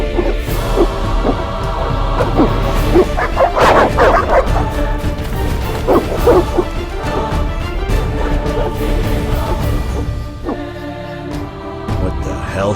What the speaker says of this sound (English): They're evil dogs.